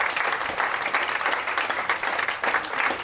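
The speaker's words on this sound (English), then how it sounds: "So a round of applause first of all for the work that they're doing," Audience applause at a Pecha Kucha event in a Bali venue, a brisk, continuous patter of many hands clapping at moderate volume.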